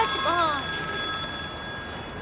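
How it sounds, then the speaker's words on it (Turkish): A telephone rings in a busy indoor room, its bell sounding briefly at the start while voices chatter over and after it. "Bakın şu telefona, biriniz hayrınıza, müşteri arıyor."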